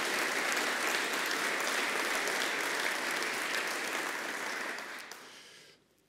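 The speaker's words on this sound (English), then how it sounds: "if you give him a round of applause, David Mayhew has driven this thing through" A forum audience gives sustained, dense applause to honour David Mayhew at the closing of a salmon conservation meeting. The clapping holds evenly for about five seconds, then thins and stops abruptly.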